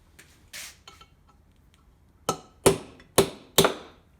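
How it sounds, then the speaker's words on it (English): A small punch hammered through a rusted part of an antique water heater: a few light taps and scrapes, then four loud, sharp metallic hammer strikes in quick succession, close and alone. "I'm going to try to take a small punch and see if it'll tap through"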